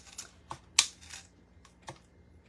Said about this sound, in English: I'm just using these Hart scissors